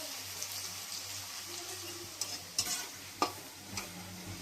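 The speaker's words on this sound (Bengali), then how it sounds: "পেঁয়াজটা ভাজা ভাজা হয়ে গেছে।" Onions frying in oil in a pan, in the same oil used earlier for potatoes and chicken, with a steady low sizzle and a few sharper clicks of stirring; no one talks.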